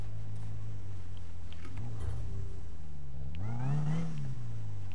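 A car engine in the Need for Speed racing game revs hard, a loud close drone that dips and then climbs steeply through the gears, with no talk over it.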